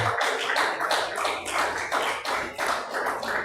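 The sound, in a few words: congregation clapping hands loudly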